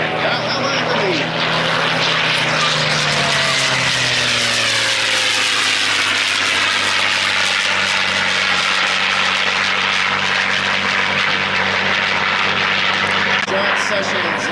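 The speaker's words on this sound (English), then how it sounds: "P-51B on the right wing. Passes." A vintage P-51B Mustang propeller fighter passes by, its loud, sustained engine drone sweeping in pitch as it goes overhead and recedes, continuous throughout with no voices over it.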